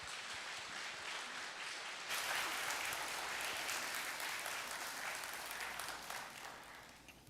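A church congregation applauding in welcome, many hands clapping in a broad even roar that swells after two seconds and holds steady, then eases slightly toward the end, with no voices heard.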